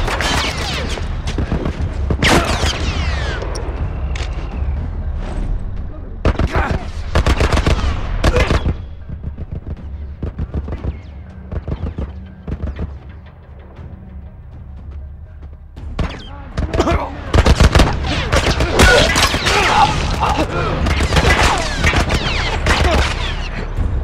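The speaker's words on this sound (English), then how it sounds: "How much 50 cal ammo do these dudes have? Shooting non-stop." Continuous .50 cal machine gun fire in The Last of Us, dense sustained bursts of rapid shots with booming impacts, loud and near, easing briefly in the middle before resuming heavily.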